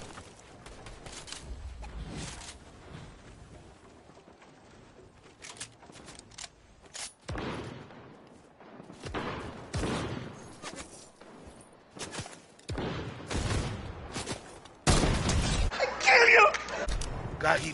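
Gunfire in the video game Fortnite: sharp, loud broadband bursts arrive in scattered clusters, growing denser toward the end, mixed with chatter and other game noise.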